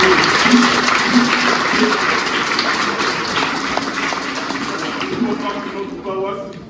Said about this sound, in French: On applaudit pour les enfants de Saint-Pierre de Barnier.